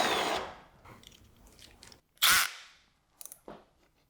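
A drill driver set to a light clutch tightens fasteners while an air filter is assembled, giving short whirring bursts, one sharp loud burst midway, then a couple of brief clicks and a fading spin.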